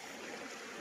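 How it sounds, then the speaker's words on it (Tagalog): A small river stream on a farm lot flows steadily in a continuous broadband rush, moderately loud and close, with no voices. "So yung kabila, ayan po yung ilog."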